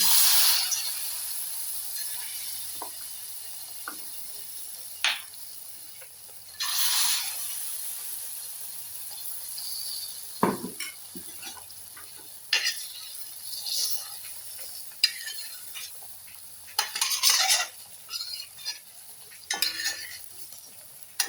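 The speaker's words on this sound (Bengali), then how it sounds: "এবারে আমি আস্তে আস্তে একটা একটা করে মালপোয়া তেলে ছাড়ব।" Mango malpua pancakes are lowered one by one into hot oil in a wok, giving a thin steady sizzle punctuated by scattered clinks and scrapes of utensils against the pan, fairly close.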